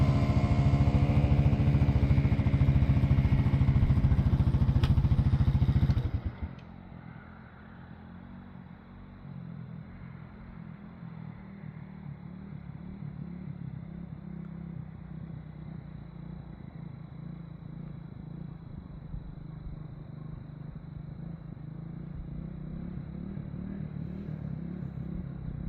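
A 1983 Honda ATC200X three-wheeler with a swapped engine roars loudly up close for several seconds. It then drops suddenly to a lower, more distant steady putter as it rides around.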